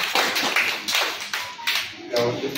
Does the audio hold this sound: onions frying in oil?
no